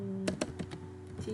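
Computer keyboard keys are tapped a few times in quick succession, soft and close, with no talk over them.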